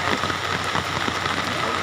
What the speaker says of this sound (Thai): มาก็เจอฝนชุ่มฉ่ำเลยเนาะครับ